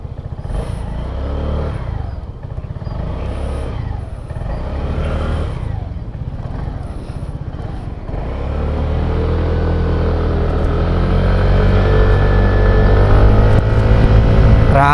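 A SYM Cruisym 150 GT scooter on a quick test ride idles with a pulsing engine note, then pulls away and holds a louder, steady, close drone as it accelerates, with wind noise throughout.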